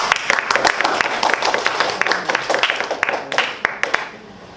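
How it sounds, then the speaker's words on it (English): Audience clapping at a Toastmasters speech evaluation session, a sparse patter of individual hands that swells briefly and then thins out, fairly close. "you can clap louder"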